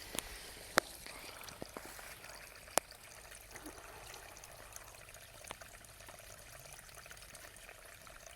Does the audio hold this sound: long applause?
no